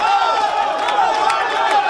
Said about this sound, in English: Crowd gets behind now.